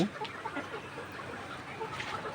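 Layer hens cluck on a poultry farm, many birds overlapping in a continuous, fairly close chatter.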